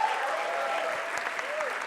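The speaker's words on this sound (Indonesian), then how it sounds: "Tepuk tangan sekali lagi untuk Mas Wisben." A stand-up comedy audience claps steadily through the whole moment, dense and fairly close, with a voice speaking over the applause.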